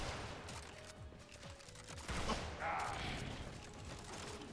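The Tigris Prime shotgun in a video game fires several rapid burst blasts that overlap into a crackling, mechanical fusillade, loud and layered over game effects.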